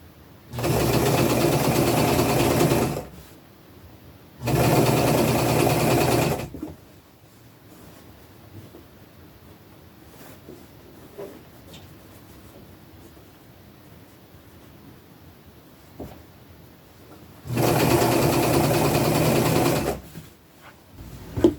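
A sewing machine stitches a ruffle onto a dress in three loud, steady runs of motor whir, two early close together and one near the end, separated by quiet room sound.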